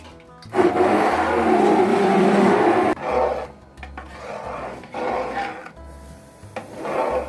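A spoon stirs thick apple jam with butter in a pot, making raspy scraping strokes: one long stir near the start, then several shorter scrapes with brief pauses between them.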